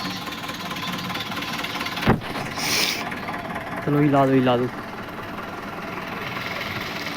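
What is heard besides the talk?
tractor engine idling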